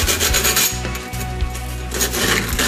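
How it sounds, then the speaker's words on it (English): Metal pole being deburred, its freshly cut edge lightly filed: steady, close rasping strokes in a quick repeating rhythm, with no talking. "we're just going to lightly take off some of the burrs on this"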